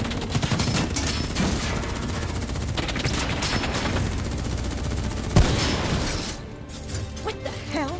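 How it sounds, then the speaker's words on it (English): Sustained gunfire rattles through a Call of Duty: Black Ops III battle, rapid automatic bursts with a sharp crack partway through, loud and dense before thinning toward the end. "What the hell? Who's shooting?"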